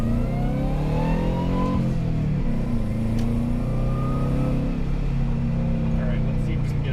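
The engine of a turbocharged Plymouth Turbo Loyale roars loudly and steadily as the car pulls hard in second gear, revs climbing with a smooth, continuous drone heard from inside the cabin.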